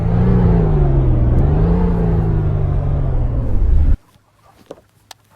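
A Mazda RX8 in sport mode accelerates hard and takes off, its engine loud and close, with a rising, sustained roar for about four seconds that cuts off abruptly, leaving faint scattered knocks.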